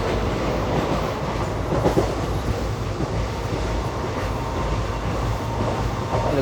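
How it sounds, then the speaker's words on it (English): A Chennai-Coimbatore Kovai Express intercity train passes close by, with a steady loud rumble and rolling wheel clatter heard from another train and no talk. "That was the Chennai-Coimbatore Kovai Express."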